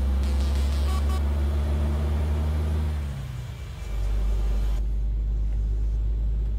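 A Fiat Panda passes on a motorway in Euro Truck Simulator 2, its engine a loud, low rumble that dips and shifts in pitch midway, heard alone without talk.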